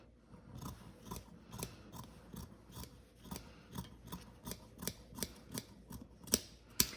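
Fabric scissors trimming a trouser seam allowance near a waistband, a steady run of quiet crisp snips, roughly two per second, close and alone with no voice.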